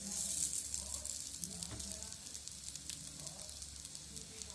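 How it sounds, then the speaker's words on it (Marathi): Cutlets shallow frying in a little hot oil in a pan: a quiet, steady hiss and crackle, close but faint, with no talk. "यानंतर पॅनमध्ये तेल गरम करून आपल्याला हे कटलेट्स शॅलो फ्राय करून घ्यायचे आहेत"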